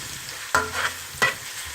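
Onion and leek frying in olive oil and butter, a steady close sizzle with two sharp clattering stirs of the pan partway through, no talk.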